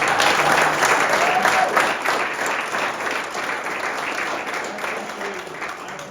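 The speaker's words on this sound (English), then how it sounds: "let's give Nick a round of applause for living." A room full of people applauds a speaker, the clapping dense and sustained before slowly thinning out, with no talk over it.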